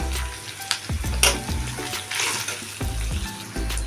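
Boiled potatoes dropped into a hot pan with ginger garlic paste, sizzling and frying loudly with stirring scrapes and clatters of a spatula against the pan.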